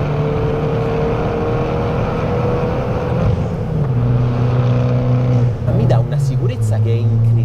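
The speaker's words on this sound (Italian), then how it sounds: "Cioè il sound dell'aspirazione è qualcosa." An Abarth 595 roars through a tunnel, a loud, steady engine and intake drone that climbs and shifts pitch as it accelerates, echoing close throughout, with faint voices underneath.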